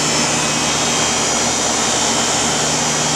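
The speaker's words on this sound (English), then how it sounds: "both condenser fans are on and our compressor's on" A GCI 13-ton air-cooled chiller runs with both condenser fans and its compressor on, producing a loud, steady, broadband roar and hum heard close up, with no talking.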